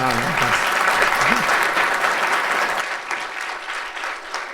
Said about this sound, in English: So round of applause for Jim, please.